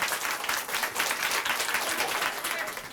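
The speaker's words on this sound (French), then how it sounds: "Vous applaudissez bien fort notre camarade Fanny." An audience applauds steadily and loudly for a few seconds, dense clapping from many hands filling the room.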